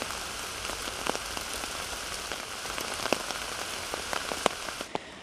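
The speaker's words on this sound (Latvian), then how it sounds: "Šodien šeit Strenčos līst lietus," Steady rain falls outdoors in Strenči, a soft continuous hiss with scattered sharper drips tapping nearby and no voices.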